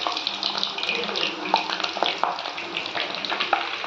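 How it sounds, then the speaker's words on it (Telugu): Moong dal snack sizzling in hot cooking oil, a steady close crackle and hiss with small pops throughout, alone without talk. "కొంచెం కొంచెం వేసుకొని నూనెలో వేయించుకుందామండి."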